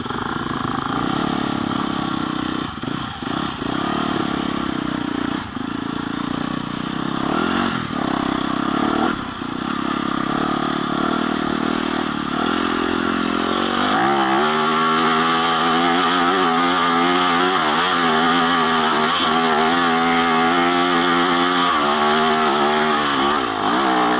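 Off-road dirt bike engine, roughly 40 horsepower, revving hard on a steep hill climb, a loud continuous buzzing drone that rises and falls in pitch as the throttle changes.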